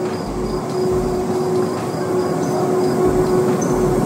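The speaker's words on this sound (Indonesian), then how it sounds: "Oh, ini keretanya datang nih," A passenger train pulls into a station in Italy, a steady low rumble with a sustained mechanical hum and faint higher whines, heard alone without talk.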